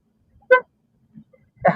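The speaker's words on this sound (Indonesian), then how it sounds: "Klaksonnya bunyinya sedikit lucu ya." Two short, high, toy-like beeps come from the horn of a 2024 Wuling Air EV Standard Range electric city car, spaced about a second apart in near silence, with a faint soft thump between them.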